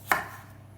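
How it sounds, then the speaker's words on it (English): A single sharp knife chop through squash on a cutting board, one crisp close thud followed by quiet. "So you're chopping them into chunks?"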